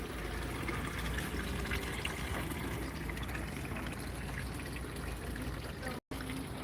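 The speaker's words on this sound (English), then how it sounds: "They have beautiful fountains." Continuous splashing and rushing water from garden fountains in a large outdoor nursery, a steady broadband wash heard close, with a brief dropout near the end and no voices.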